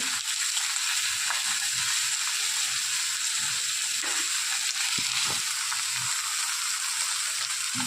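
Eggplant and salted dried fish curry sautés in a pan with a loud, continuous close-up sizzle and a few faint scrapes of stirring.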